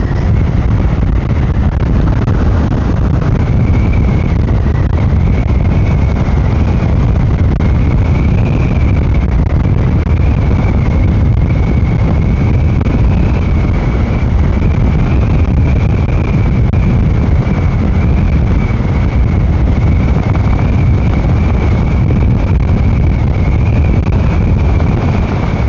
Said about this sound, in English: The headwind is pretty tight.